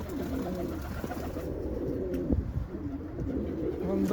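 Roller pigeons coo nearby in low, repeated throaty rolls, several calls overlapping in a steady rhythm, with faint background noise.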